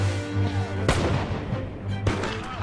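Artillery firing in a battle reenactment: two heavy booming shots about a second apart over steady rumbling background noise and crowd sounds.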